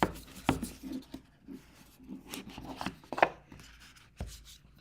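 A hard cardboard box holding an artisan cutlery knife is handled, giving scattered taps, rubs and scrapes at close range, fairly quiet with short pauses between them.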